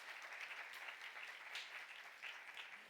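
A church congregation applauds during a young adults' sermon, a steady, dense wash of many hands clapping at moderate distance with no voices over it.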